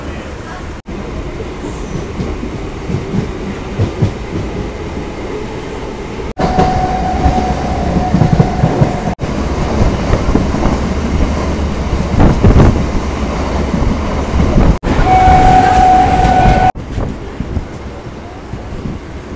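A local train runs on rails, a loud continuous rumble with clattering wheels and brief squeals, the level shifting in sections as the carriage moves along; faint voices appear now and then.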